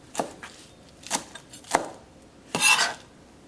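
Fresh herbs roughly chopped with a knife on a board while preparing a green apple and beef salad: four or five separate sharp knocks with pauses between them, the last one a longer scraping burst, close and moderately loud.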